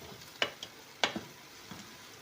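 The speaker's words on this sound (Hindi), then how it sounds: "कीमे की भुनाई हो रही है" Minced meat (keema) frying in oil in a pan, a soft background sizzle broken by a few sharp spatters and pops, close and fairly quiet.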